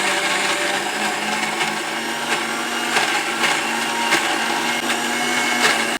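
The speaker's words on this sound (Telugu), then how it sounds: "మిక్సీకి జార్ ఫిట్ చేసుకొని మంచిగా మెత్తగా చేసుకోవాలండి" A mixer grinder runs steadily, blending carrot dosa batter with a loud, continuous motor whine and churning for six seconds, with no talking.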